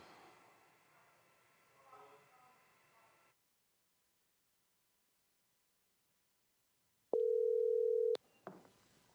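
A telephone line sounds a single steady electronic tone for about a second after a long silence as a call goes through to Maria Corina Machado, preceded by faint murmuring and followed by a brief click.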